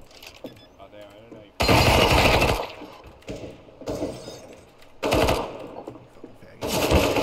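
AK rifle bursts in a first-person shooter game, three loud rattling volleys of rapid fire separated by short pauses, with a voice talking faintly underneath.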